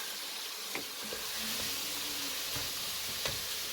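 Food cooks down in a hot pan with a steady, close sizzle and hiss, broken by a few faint clicks from stirring, and no voices.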